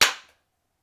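A single sharp hand clap during a home exercise routine, crisp and close, decaying quickly into silence.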